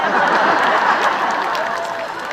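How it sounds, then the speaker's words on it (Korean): An outdoor concert audience in Ganghwa applauds a guest singer, a dense sustained wash of many hands clapping at once, loud and broad, with faint crowd murmur beneath and the clapping tapering slightly at the end. "박수 같이 쳐주시겠습니까?"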